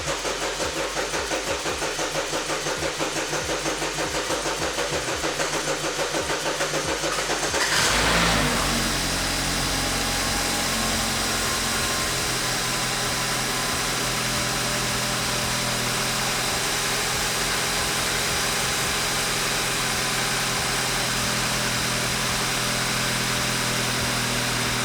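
A mechanically totaled BMW's engine cranks and fires on its first start, catching with a brief surge before settling into a steady, continuous idle that carries on alone.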